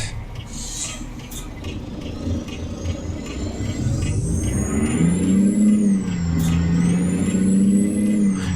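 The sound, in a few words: Jake brake of a truck engine, from a truck-driving video game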